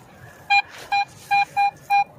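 A metal detector in wet, sloppy ground gives five short, clean electronic beeps in a steady, slightly uneven rhythm, loud and close over faint outdoor background.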